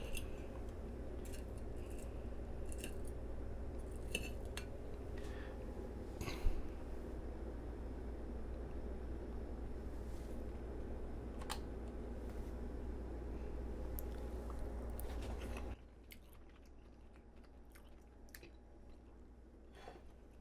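Someone eats a flaky salmon fillet cooked sous vide from frozen, with soft, faint chewing and occasional small clicks over a steady low background hum that drops away near the end.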